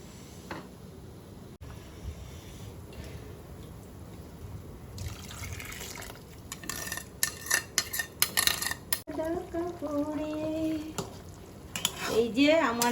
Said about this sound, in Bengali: এক চামচ কর্নফ্লাওয়ার গুলে দিয়ে দেবো।